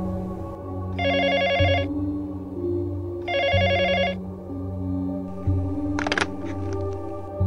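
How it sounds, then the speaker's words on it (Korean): A telephone rings twice in bursts of rapid electronic trilling, clear and close, over a steady tonal background hum, followed by a short click. "전화가 울렸다."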